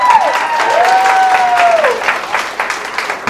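Comedy club audience applauding during a stand-up set, a full, continuous burst of clapping from a packed room that holds steady and begins to ease off toward the end.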